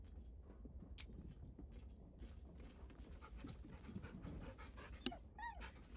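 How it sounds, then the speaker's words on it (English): Scratch the dog panting happily in Baldur's Gate 3, quick soft breathy panting with a small whimper near the end, faint and close over low game ambience. "Scratch's tongue lolls out happily, his tail wagging even faster"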